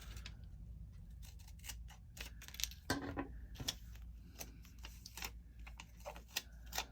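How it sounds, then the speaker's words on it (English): Scissors cut through a sticker in a steady series of close, crisp snips and clicks, alone without speech. "I'm going to cut the animal part off."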